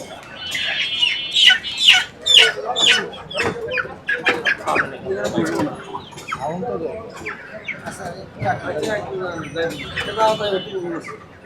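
Chickens clucking in a busy poultry shop during a consumer-rights market inspection, irregular fowl calls scattered through loud, overlapping human talk and shop bustle.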